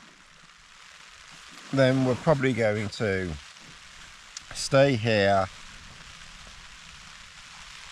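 Rain falling steadily on a campsite, a soft continuous patter running throughout beneath someone speaking briefly in the middle.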